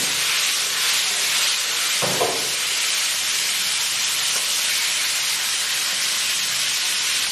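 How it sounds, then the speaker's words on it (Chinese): Fish bones and a fish head frying in a wok for Sichuan pickled-cabbage fish give a steady, loud, hissing sizzle that runs unbroken the whole time, with a brief soft knock early on and no talk. "依次将鱼骨鱼头下锅。"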